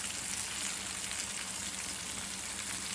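Food sizzles steadily in a hot frying pan at home, a dense, even crackle of oil that holds close and unbroken throughout with no voices.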